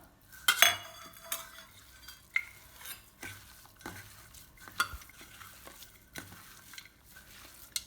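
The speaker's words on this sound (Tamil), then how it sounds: "நல்லா ஒன்று சேர கலந்துக்கலாம்." Ground spice paste being mixed with minced mutton in a bowl, soft irregular wet stirring and squelching with occasional light clinks of a utensil against the bowl, close and fairly quiet.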